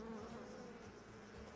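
Bees buzzing steadily during their transfer from traditional hives to modern hives in the Ethiopian highlands, a dense continuous drone close by with no voices.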